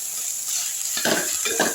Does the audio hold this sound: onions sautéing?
yes